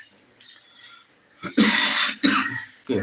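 A few harsh, close coughs, one short burst then two longer hacking coughs with throat clearing, separated by brief pauses.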